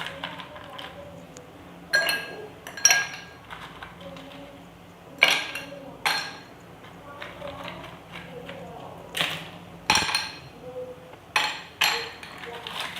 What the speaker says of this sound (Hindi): बर्फ़ थोड़ी सी ज़्यादा जाएगी।